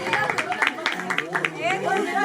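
Audience clapping at a children's Christmas drama event in Rawalpindi, scattered claps mixed into steady crowd chatter and overlapping voices, fairly close and continuous.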